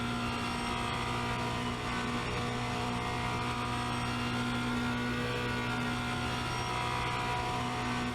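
A Formula Renault 2.0 race car at Spa-Francorchamps drones with a steady, sustained engine note. The tone stays fairly constant and moderately loud throughout, with no sharp revs or gear changes.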